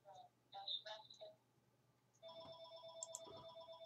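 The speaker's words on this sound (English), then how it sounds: "Call from Rashka" A phone ringtone sounds for an incoming call, an electronic melodic tone pattern with a short burst followed by a sustained repeating ring, close and clear with no talking.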